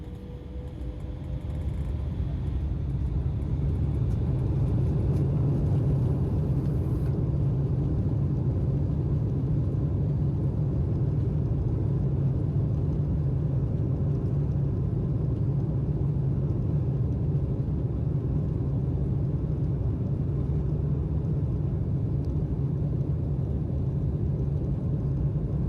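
Steady low cabin rumble of a domestic flight departing Shinshu Airport in Matsumoto, a dense, continuous engine drone that holds constant throughout.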